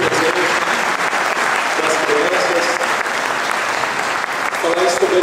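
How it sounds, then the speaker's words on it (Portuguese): Crowd clapping steadily for the indigenous Guarani people at the launch of a popular and parliamentary front for national sovereignty in Paraná, continuous applause with voices mixed in beneath it. "eu iria pedir uma salva de palmas ao povo indígena, ao povo guarani, por favor"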